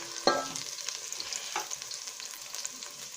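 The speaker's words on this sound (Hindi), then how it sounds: "प्याज को थोड़ी देर फ्राई करेंगे।" Onions fry in a pan while they brown lightly for a mixed vegetable dish. A steady close sizzle runs throughout, with a sharp spatula knock near the start and a few softer stirring scrapes.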